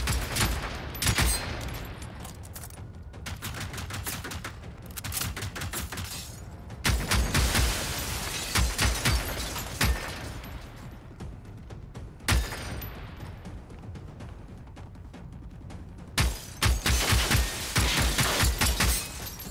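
Gunfire and weapon reloading in the PS4 shooter Generation Zero, with dense bursts of rapid shots and crackling blasts repeating in loud clusters through the whole stretch, punctuated by short gaps and no talking.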